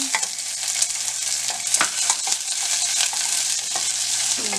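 Chopped onion fries in hot oil with green chilies and cumin seeds, giving a steady close sizzle broken by repeated scraping stirs, with no voices over it.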